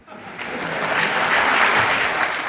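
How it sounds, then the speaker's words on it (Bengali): Seated studio audience at a televised courtroom-style show breaks into sustained applause, building steadily and filling the space with dense, even clapping throughout. "সেই জন্য লোকেরা হাততালি দিচ্ছে বসে"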